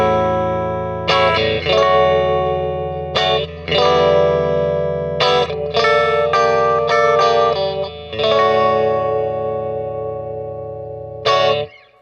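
A clean-toned Fender Johnny Marr Jaguar electric guitar, middle pickup setting with both pickups in series and bass cut, picks bright, twangy chords and single notes with a thin, light low end, ringing out with pauses between phrases.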